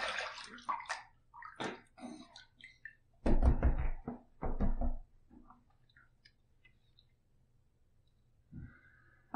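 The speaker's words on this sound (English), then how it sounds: "Okay, let's rinse." Water splashes and runs in short, uneven bursts as a face and razor are rinsed during a shave, close and fairly quiet, with louder splashing near the middle and a stretch of near silence afterward.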